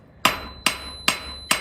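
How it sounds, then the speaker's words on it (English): A blacksmith strikes hot metal with a hammer at the forge, four sharp, ringing blows at an even rhythm, close and loud, each with a brief metallic ring trailing off and no talking. "I'm going to switch over to a different hammer just to show you that it can be done."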